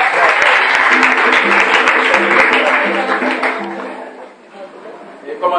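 A church congregation applauds for brother Jérémie with loud, sustained clapping from a crowd that fades away toward the end, and a voice is heard over it.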